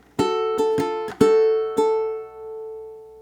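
Ukulele playing the second bar of a melodic blues, plucked alone and up close as a handful of bright notes in uneven rhythm, with the last note left ringing and slowly fading.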